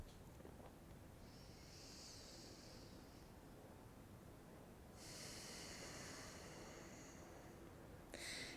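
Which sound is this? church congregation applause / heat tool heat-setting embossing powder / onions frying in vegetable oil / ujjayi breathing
ujjayi breathing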